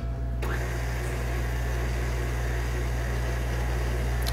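Steady electric mixer whir blending yeast, sugar and a little all-purpose flour for brioche dough, a constant close motor drone starting abruptly and running without a break.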